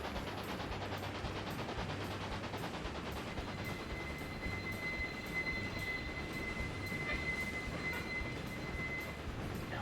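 Freight train rolling along in Railway Empire, a dense steady rumble of wheels and clanking wagon mechanisms running continuously at constant loudness, with a thin high whine entering partway through.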